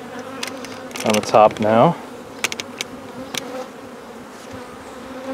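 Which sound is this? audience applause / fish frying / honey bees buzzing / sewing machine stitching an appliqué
honey bees buzzing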